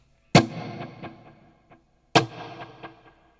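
Electric guitar through a stereo delay set to eighth and dotted-eighth repeats: two sharp plucked attacks, each followed by a trail of quieter, evenly spaced echoes that fade away.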